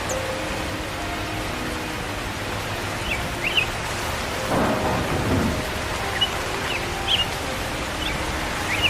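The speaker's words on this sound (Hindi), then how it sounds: "बाहर बारिश हो रही है" Heavy rain pours steadily in a cartoon scene while a low thunder rumble swells midway, with the constant hiss of the downpour holding close and loud throughout.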